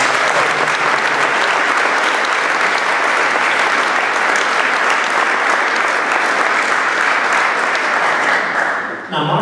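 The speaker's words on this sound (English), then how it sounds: "So let's give Mark and his team a nice round of applause." A loud, sustained round of applause from an audience at a reunion program honoring a coach. A dense, even wash of clapping continues for about nine seconds, then cuts off abruptly.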